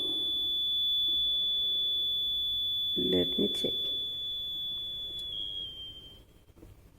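A null detector on a Maxwell's bridge setup gives a steady high-pitched tone while the potentiometer is tuned, the tone fading toward its minimum near the end, with a brief spoken remark in the middle.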